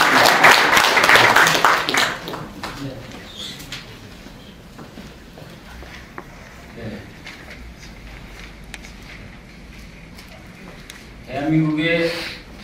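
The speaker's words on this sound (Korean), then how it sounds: "환영의 박수로 한번 맞이해주시기 바랍니다." An auditorium audience at a founding ceremony claps in welcome for a guest speaker, a loud burst of applause over the first two seconds that fades to quiet room noise, with a voice speaking near the end.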